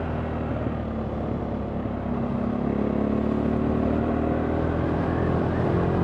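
KTM 390 Duke single-cylinder motorcycle engine and exhaust droning steadily while riding, with a misfiring spark plug causing pops and splutters; a continuous, moderately loud hum with wind rush and no talk.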